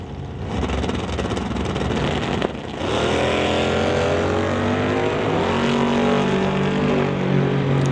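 Drag racing cars, a Chevrolet Bel Air and a Ford Falcon, stage at the line with loud, sustained engine roar, pitch rising and shifting as the revs climb, close and continuous with no talk.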